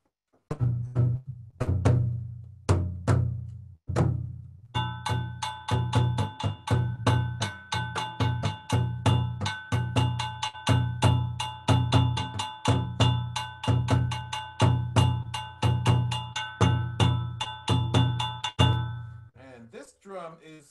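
Jum jum bass drum from a drumming ensemble, struck alone in a steady, even beat of many close, loud hits, with a ringing metallic overtone over most strokes.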